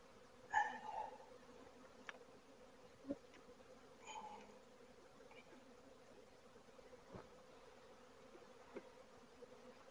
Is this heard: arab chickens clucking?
no